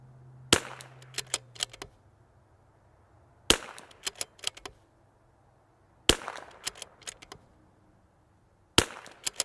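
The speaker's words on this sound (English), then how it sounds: "And I'm shooting really fast." .22LR target rifle firing Eley match ammunition, four groups of sharp cracks spaced a few seconds apart, each crack followed by quick fainter clicks and clatter of the action, outdoors at a range.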